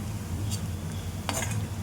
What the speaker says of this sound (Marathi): मला तुपात व्यवस्थित तळून घ्यायचं आहे